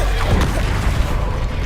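A Bombarda spell blast goes off in Hogwarts Legacy combat, giving a loud, dense burst of explosive noise with a heavy low rumble that lasts the whole moment.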